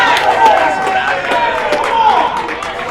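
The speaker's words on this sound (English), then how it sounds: "The crowd erupts, and it's 1-0 Mojo." Stadium crowd at a Missouri wiffleball championship game roaring with cheers and scattered clapping right after a home run, a steady loud wash of voices throughout.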